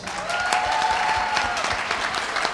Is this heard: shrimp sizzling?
no